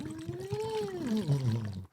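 A singer phonates through a straw into water, the pitch sliding up and then down in a steady glide over a continuous bubbling gurgle, close and fairly loud for about two seconds before stopping abruptly.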